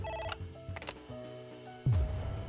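Telephone ringing in the video game AI: The Somnium Files, a repeating electronic ring with steady tonal bursts, followed by a louder low thump near the end.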